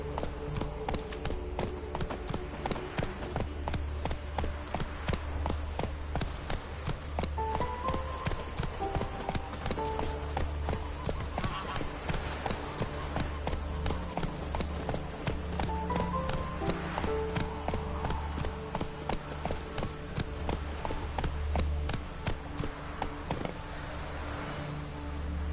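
Roach the horse gallops in The Witcher 3, a steady, fast run of loud hoofbeats clip-clopping throughout over a continuous low background hum.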